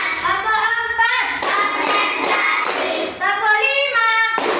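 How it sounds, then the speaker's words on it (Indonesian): A classroom of children claps together in counted bursts during an Indonesian primary science lesson, sharp hand claps alternating with chanted counting voices that rise over the rhythm. "mari kita tepuk lagi"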